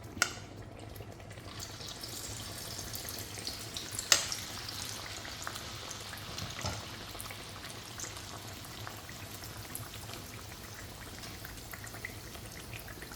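Egg surka batter poured into hot oil, frying with a steady low bubbling sizzle and a few sharper crackles and spits over about thirteen seconds, fairly quiet and without any talking.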